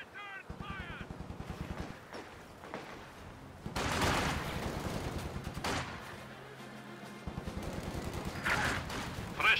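Battle gunfire in Company of Heroes 2, with Russian partisans fighting near Moscow: rattling machine-gun bursts and sharper shots, repeated over several seconds amid the general din of combat.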